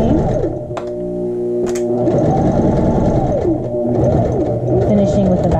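Sewing machine stitching the side seam of a child's shorts, a steady close mechanical whir with speed changes as the seam is sewn, with a person talking over it.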